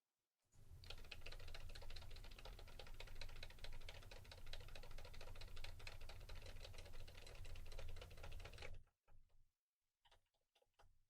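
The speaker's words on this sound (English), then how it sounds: "I'm going to type while it's taking the snapshot, so I can see if I can't, by virtue of incident, simply take out the clacking of the keys" Rapid, steady clacking of keyboard keys being typed on continuously, close and even, picked up through a BEACN dynamic USB microphone, stopping abruptly and followed by a few scattered taps and faint sounds.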